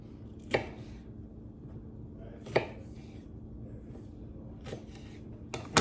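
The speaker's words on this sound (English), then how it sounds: "now I'm gonna chop 20 jalapeños" A knife chops jalapeños on a cutting board: four sharp, separate knocks about two seconds apart, close by and fairly quiet.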